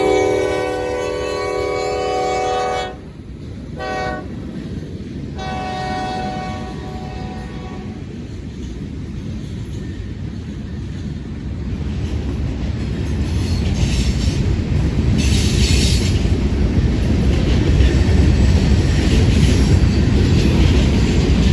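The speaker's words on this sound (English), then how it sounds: "I recognize that train horn on top." A Union Pacific freight train's K5LA horn sounds loudly in several blasts in Spring, Texas, then the heavy rumble and clatter of passing cars builds and continues steadily.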